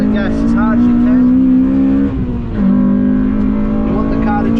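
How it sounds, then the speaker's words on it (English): A Honda Civic FN2 Type R accelerates hard on a race track, loud engine revving climbing in pitch with a brief dip during a gear shift, a voice speaking over it. "Now about here, front wheel drive, you want to get on the gas as hard as you can."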